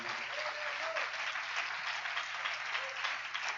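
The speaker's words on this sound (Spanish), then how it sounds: "Bríndale ese aplauso a Jesús en esta mañana" Steady applause from a church congregation during a morning service, a dense even clatter of hands held at constant loudness, with faint voices or tones drifting underneath.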